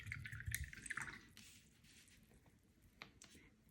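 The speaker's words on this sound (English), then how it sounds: "So I'm just going to wash off my brush," A paintbrush swished and rinsed in a water cup during a chick painting craft, with a few sharp splashy taps early, then softer drips and trickles fading out, close and fairly quiet.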